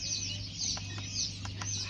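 Chickens at a poultry seller's shop, clucking and chirping, with a constant electrical hum and a few brief knocks under the birds.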